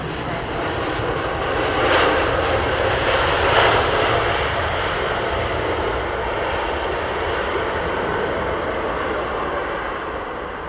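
An Airbus A321 airliner in fog at Heathrow gives off a continuous, loud jet roar with a dense hiss, peaking briefly early on and then holding steady.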